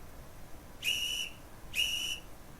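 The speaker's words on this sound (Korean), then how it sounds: "두 번째 이게 레프리 휘슬입니다." Two sharp, shrill referee whistle blasts, each about half a second long, separated by a short pause, heard clearly over a quiet background.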